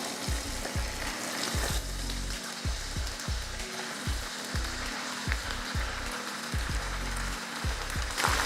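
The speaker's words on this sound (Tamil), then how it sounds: "நல்லா எண்ணெய் காஞ்சதுக்கப்புறம் அடுப்பை சிம்மில் வச்சுட்டு சில்லி போட்டுக்கோங்க." Marinated chicken chilli pieces sizzle and fry in hot oil on a stove turned down to low, a steady loud crackle with repeated soft thuds as pieces are dropped in one by one.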